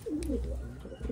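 A Taiwan breed pigeon in a pen gives a brief, close, throaty coo, soft and low against quiet background hum.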